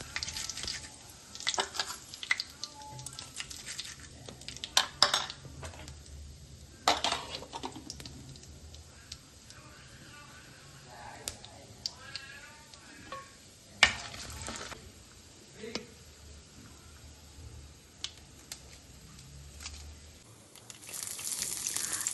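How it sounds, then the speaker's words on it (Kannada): Mustard seeds, cumin, crushed onion, curry leaves and chillies fry in a spoonful of oil, a faint continuous sizzle broken by scattered spoon scrapes and clinks against the pan. "1 ಸ್ಪೂನ್ ಎಣ್ಣೆ, 1 ಸ್ಪೂನ್ ಸಾಸಿವೆ, 1 ಸ್ಪೂನ್ ಜೀರಿಗೆ, ಜಜ್ಜಿದ ಈರುಳ್ಳಿ, ಕರಿಬೇವು, 2 ಮೆಣಸು ಹಾಕಿ ಚೆನ್ನಾಗಿ ಫ್ರೈ ಮಾಡ್ಕೋಬೇಕು"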